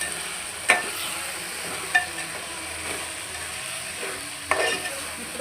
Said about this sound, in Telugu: ఇప్పుడు కలుపుకునేటప్పుడు కూడా మంచిగా కలుపుకోవాలి, లేకపోతే ముక్కలు చెడిపోతాయి అన్నమాట.